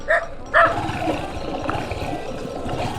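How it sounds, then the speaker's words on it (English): Dogs heard from a motorcycle on the road, two sharp barks near the start over a steady engine and wind rumble. "Oh, there's many dogs, freaking dogs. I hope they're friendly."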